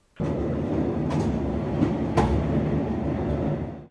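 A train runs along Hungary's railway line 94 near Edelény, a steady rolling rumble with wheel clatter and a few sharper rail knocks, close and continuous for the whole stretch.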